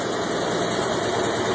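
The engine of a Willys M38A1 jeep runs steadily while drawing fuel from its own gas tank, with a constant close rumble and vibration and no voices.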